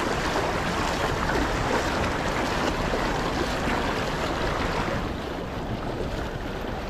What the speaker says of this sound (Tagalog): Lakas ng agos bangag niya.